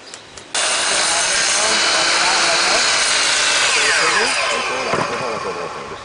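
A power drill bores through pallet wood for a goat milking stand, starting abruptly with a loud, steady whine and grinding that holds for several seconds, shifting pitch near the end as the bit breaks through.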